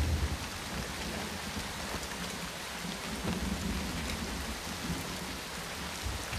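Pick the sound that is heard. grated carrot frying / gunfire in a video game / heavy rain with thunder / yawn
heavy rain with thunder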